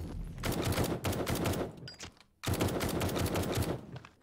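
Rapid gunfire rattles in the survival video game 7 Days to Die as players shoot at a bear. Two long bursts of quick repeated shots are split by a brief pause, loud and close, with no talking.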